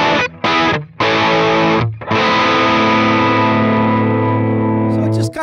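Electric guitar runs through a Fractal AX8 amp block with the lows trimmed and the mids nudged up under a decibel. A few chopped distorted chord stabs lead into a long, loud, sustained overdriven chord with no talking.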